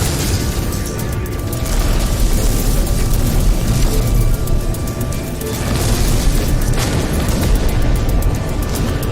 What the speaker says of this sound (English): Gotta stay away from those explosions.